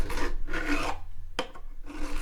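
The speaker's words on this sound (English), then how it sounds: "this one here needs a little bit of scraping off at this end" A steel file rasps against a guitar fret end along the fingerboard edge during fret preparation, with three short strokes and a brief sharp scrape between them, close and fairly loud.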